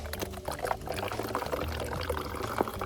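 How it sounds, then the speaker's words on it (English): Water pours and trickles steadily into bottles through a Sawyer squeeze filter at a stream along the Appalachian Trail near High Point, New Jersey, a close, continuous splashing with no talk. "Got the good old-fashioned dependable Sawyer's 20s, and I fill these bad boys up"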